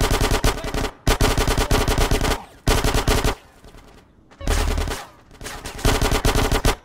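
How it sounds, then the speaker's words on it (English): Rapid bursts of automatic gunfire from the video game GTA San Andreas, loud and close, several long volleys with brief pauses between them. "Get some suppressing fire in there!"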